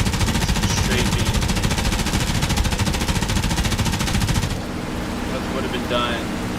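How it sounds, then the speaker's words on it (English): Sustained machine-gun strafing from a P-51 Mustang over Omaha Beach during D-Day in a DCS flight simulation, a dense continuous rattle of rapid fire under engine roar that drops to a lighter rumble near the end. "Some strafing."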